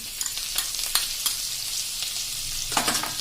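Chopped garlic and ginger sizzling and crackling in hot oil, a bright steady hiss with occasional pops and stirring scrapes, close by.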